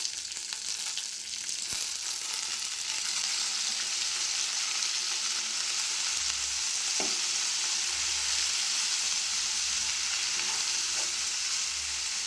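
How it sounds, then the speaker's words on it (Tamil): Mint leaves sauté in a pan with softened tomato and green chili for mint chutney, giving a steady, close sizzle and crackle with light stirring and no voices. "ஒரு 2 நிமிஷம் இந்த புதினா வதங்கினா போதும்"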